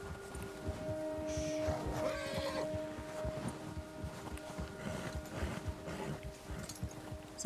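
A horse in the video game Red Dead Redemption 2 walks with faint, steady hoof clip-clops under a low wind-like ambience and a sustained musical tone.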